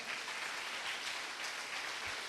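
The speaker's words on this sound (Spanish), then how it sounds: "Dale un aplauso al que vive." A church congregation claps together in a steady, dense wash of applause, moderately loud and continuous with no voices over it.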